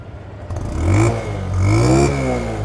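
A Honda Dream 110 motorcycle revs nearby with loud rising and falling throttle blips over a clattering idle, and there is no talk.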